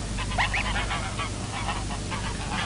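Pink-footed geese at Þjórsárver wetlands honking, a scattered chorus of short nasal calls over a steady low background rumble, several birds calling at moderate distance.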